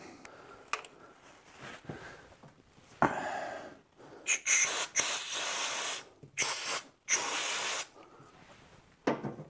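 Short bursts of silicone spray hiss onto the block heater of a Volvo BM 500 tractor engine, several loud close blasts of varying length separated by pauses, with fainter handling noise between them.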